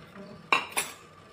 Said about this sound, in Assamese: এতিয়া লৰাই দিম